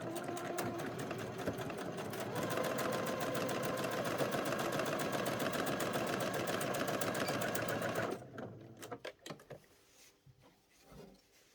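A sewing machine stitches the underarm seam of a doll's school shirt, running fast and loud for about eight seconds before stopping, followed by a few soft handling clicks and rustles.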